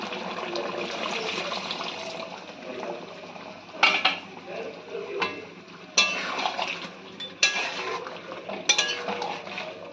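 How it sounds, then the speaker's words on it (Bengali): Spice-rinse water is poured into a pan of cooking chicken for a lemon chicken dish, giving a steady sizzling wash with clinks of utensils against the pan and several sharper bursts as the liquid hits. "আর দিয়ে দেবো তারই সঙ্গে একটু ধোয়া জল, মশলা ধোয়া জল একই সঙ্গে অ্যাড করে দেবো"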